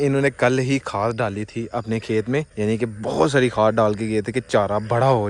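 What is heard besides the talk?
No distinct noise like a dog, phone or traffic.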